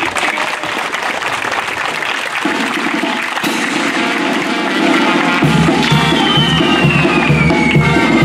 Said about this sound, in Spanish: les pido un aplauso para esta nueva autoridad